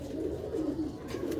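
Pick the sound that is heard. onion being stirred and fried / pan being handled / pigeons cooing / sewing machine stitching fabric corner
pigeons cooing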